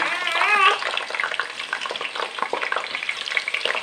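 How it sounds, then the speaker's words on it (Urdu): Chopped onions hit hot ghee in a pan for an aloo kofta curry, giving a loud, steady crackling sizzle that stays close and continuous throughout, with a brighter burst of spitting right at the start. "گھی میں سب سے پہلے ہم ڈالیں گے پیاز"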